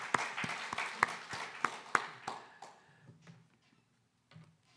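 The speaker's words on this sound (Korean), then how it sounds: "하나님께 영광의 박수 여러분 같이 올려드리려 하겠습니다" A church congregation claps together, a few strong rhythmic claps in unison that quickly thin out and fade into a quiet room.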